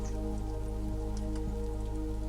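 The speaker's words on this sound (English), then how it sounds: "The sound of the rain softens again, as if the world is whispering a final lullaby." Rain falling in the woods near a cabin, a steady soft patter of drops with a constant low background hum, no voices.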